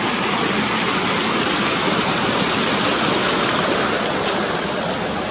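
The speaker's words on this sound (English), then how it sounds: "Right, that's that river across." River water flowing in open hill country, a steady close rushing wash that fills the whole stretch without pause, with no voices over it.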